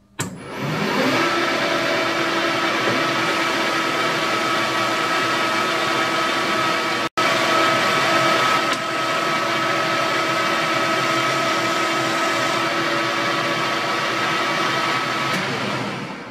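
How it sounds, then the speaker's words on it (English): A lathe takes a light spring cut on steel stock held in an ER32 collet, making a steady, loud mechanical whir with a constant tone that runs on unbroken, cut only by one brief dropout. "We're just doing a spring cut at the moment"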